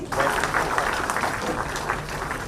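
Dense, steady applause from a large audience fills a brief moment at an official event where appointment letters are given to candidates who passed the JSSC exam.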